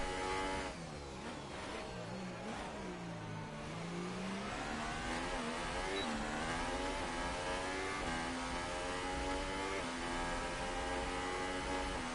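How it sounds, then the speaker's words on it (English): Toro Rosso Formula 1 cars race in a video game of the Bahrain Grand Prix, their high-revving engines screaming steadily and rising and falling through gear changes, loud and continuous with no speech. "Let you guys have a little listen to these engines of these Toro Rosso cars"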